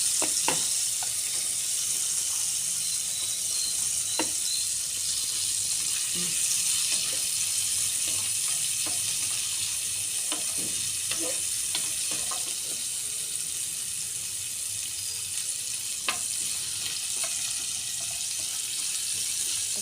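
Garlic sizzling and frying in a pan, a steady hiss with scattered pops and small clicks of stirring, close and continuous, with no talk.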